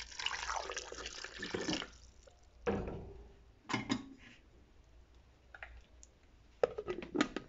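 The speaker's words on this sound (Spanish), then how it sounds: "Le vamos a poner un poco de agua." Water is poured into a blender while making a filling for shredded-beef flautas, a splashing trickle with drips and a few clinks of the container, faint and close.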